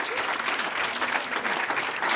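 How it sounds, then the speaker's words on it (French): At an MR party gathering, an audience gives Georges-Louis Bouchez a standing ovation: dense, continuous clapping from many hands, loud and even throughout. "De longues minutes d'applaudissements, de standing ovation même face aux pontes du parti"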